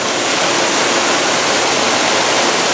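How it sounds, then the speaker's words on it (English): A waterfall inside the rainforest pyramid at Moody Gardens in Galveston, Texas, roars loudly and continuously, a dense unbroken rush of falling water heard close up with no other sounds. "Back portion of the waterfall."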